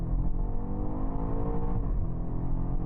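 A BMW X6 M in track mode launches hard from a full stop, its engine roaring loud and continuous from up close as it pulls through the gears with a steady, rising growl and no talk over it.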